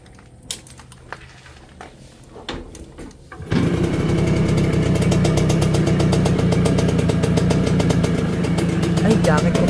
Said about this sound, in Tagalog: Andalin na natin yung motor guys.